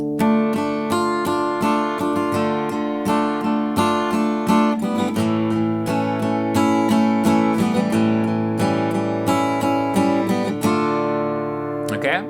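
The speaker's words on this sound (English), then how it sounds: "when we add the strumming to it, it's gonna sound like this" Steady strummed chords on an acoustic guitar, rhythmic and close, with no voices.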